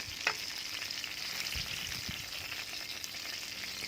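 Chicken pieces fry on both sides in a very hot pan, producing a loud, continuous close sizzle and crackle with a few soft knocks.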